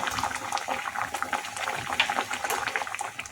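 Bengali fish curry with mustard and poppy seeds bubbles in a pan, close, irregular popping and blurping of thick liquid boiling, with no talk.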